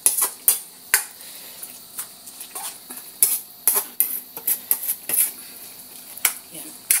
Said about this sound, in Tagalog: Haluin lang natin ng haluin para sumama yung ibang lasa ng ingredients.